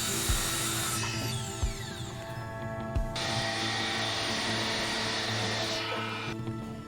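A power saw cuts through a timber shield and catches a hidden screw, giving a steady, loud whining drone with harsh mechanical rasping and a few sharp knocks. The pitch changes partway through, and no one speaks.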